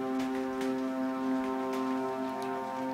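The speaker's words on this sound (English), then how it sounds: "Background noise is rain." Steady rain falls beneath a constant, loud humming drone, with soft patter and occasional faint ticks running through all three seconds and no voices.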